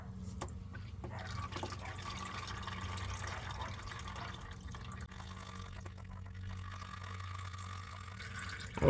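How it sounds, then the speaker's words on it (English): Engine oil drains from the sump of a 2019 Cadillac Escalade in a thin, steady stream that patters faintly into a catch pan, with a low hum underneath and a brief clatter at the end. "I like to let it drain until the flow starts breaking up"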